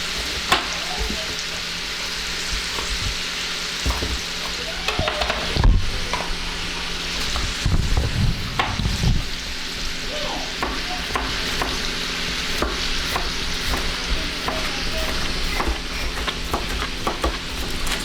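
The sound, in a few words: food browning and sizzling in a pan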